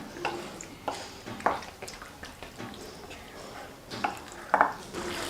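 A spoon stirs vinegar into lemon pickle in a pan, giving soft scraping and clinking against the metal with a few sharper taps. A faint sizzle runs underneath, and there is no speech.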